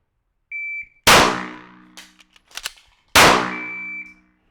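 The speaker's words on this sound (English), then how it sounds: "I have 3 seconds to fire, reload, and fire" A shot timer beeps, then a handgun fires one sharp, loud shot. A quick reload follows with clicks and rattles, a second loud shot, and a closing timer beep, all close by and without talk.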